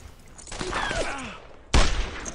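Gunfire in the World War II shooter Brothers in Arms: Earned in Blood, a single sharp loud gunshot near the end after a stretch of muffled battlefield noise and brief faint voices.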